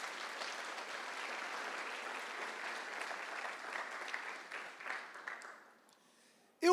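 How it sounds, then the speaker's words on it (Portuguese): Church congregation applauding together, a dense steady clapping that holds for about five seconds, then thins out and fades into near silence with a sharp knock at the very end. "Aplaude o Senhor Jesus."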